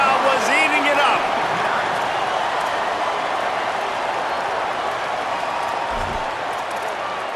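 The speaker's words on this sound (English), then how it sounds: "Rolled into the end zone, and this crowd was eating it up." A packed stadium crowd roars in a College Football video game after a touchdown run into the end zone, a loud, steady wall of cheering that holds throughout, with a commentator's voice over it.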